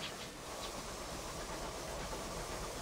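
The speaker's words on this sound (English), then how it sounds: "Also, I love the little train noise I make." A steady rushing, hissing rumble of a flying locomotive engine in the game Sunless Skies, continuous and unbroken throughout, with faint rhythmic pulses riding on top.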